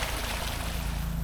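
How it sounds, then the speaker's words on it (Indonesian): Water trickles and burbles steadily along a small stream bordering a plot of land, a continuous close, even wash with no pauses. "ini yang saya bilang ada suara gemericik air di bagian depan"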